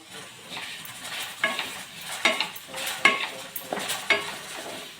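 Rice roasting in melted ghee is stirred in a pan, making repeated rhythmic scraping strokes over a soft, continuous sizzle, heard close up and with no talking.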